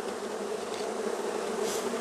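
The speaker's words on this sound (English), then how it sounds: "You'll notice the bees are out here in front. They're fanning." Honeybees fan their wings at the entrance of a newly installed hive, a steady close-up buzzing hum with slight swells as individual bees pass near.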